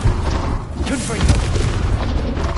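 A fiery Confringo blast spell going off in Hogwarts Legacy, a deep booming burst with low rumble sustained over busy game sound, with a voice speaking near it.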